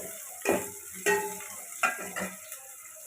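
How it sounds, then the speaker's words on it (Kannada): Onions fry in a pan with a steady sizzle and crackle, broken by a few close scrapes and taps of a spoon against the pan. "ನೋಡಿರಿ ಈ ಥರ ಚಟಪಟ ಚಟಪಟ ಅನ್ನಬೇಕು ಚೆಂದಾಗೆ ಬೈದಿರಬೇಕು ಈರುಳ್ಳಿ"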